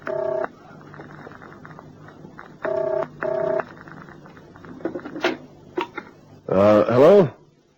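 Bursts of touch-tone dialing beeps, several separate tones with short pauses and faint clicks, followed by a warbling ring signal.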